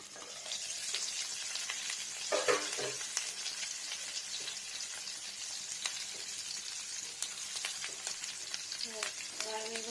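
Onion and garlic frying in a pan for a fish-roe paturi with gourd leaves, a steady close sizzle with spatula stirs and scrapes, a couple of brief clinks along the way.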